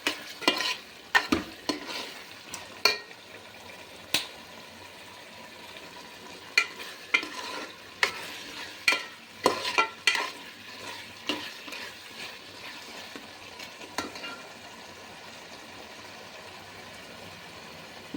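A spoon stirs and scrapes a lemon chicken mixture in a hot pan, giving irregular sharp clinks over a low sizzle, busiest early on and thinning out toward the end, with no talking.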